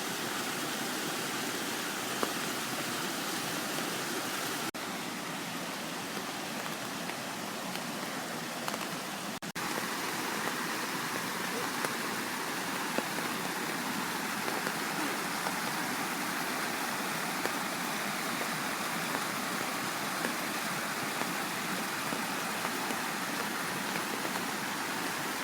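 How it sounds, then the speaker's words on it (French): Rain falling steadily through the night at a forest bushcraft bivouac campsite, a dense even hiss of drops on surfaces continuing unbroken for the whole stretch, with no voices. "Ouais, il pleut quand même pas mal."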